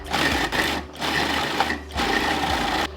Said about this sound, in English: I've put them in the food processor, and we're just going to puree these a bit